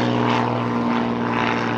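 Nine-cylinder radial aircraft engine running steadily nearby, a loud, continuous throbbing drone with a rich, rough pulse and no pauses.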